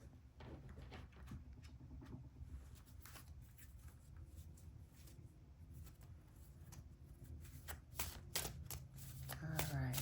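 Tarot cards being shuffled by hand in a steady, close riffling and sliding patter, with soft card snaps throughout and a louder flurry near the end, all under quiet background tone; a person speaks faintly at times.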